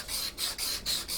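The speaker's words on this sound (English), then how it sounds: "now as soon as I go round this with some sandpaper just on a little block of wood" Sandpaper wrapped on a small wooden block rubbing a guitar control cavity cover, a close, rasping scrape repeated in about five quick back-and-forth strokes.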